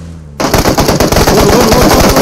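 Automatic weapon fire in the mobile battle royale game PUBG Mobile bursts in suddenly after a quiet moment and continues as loud, rapid, close shots.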